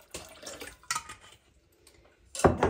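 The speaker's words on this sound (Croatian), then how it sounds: "Stavit ću otprilike nekih 700 ml vode." Water, about 700 ml, is poured into a cooking pot in a home kitchen, coming as short splashing gushes with a brief pause before a louder final pour.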